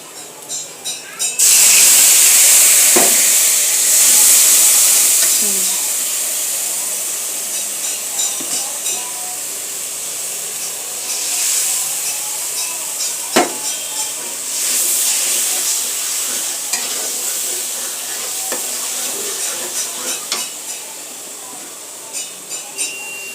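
Ginger, garlic, cumin and coriander paste frying in a pan while being stirred: a loud, continuous hiss and sizzle that gradually eases, broken by occasional scrapes and knocks of the spoon.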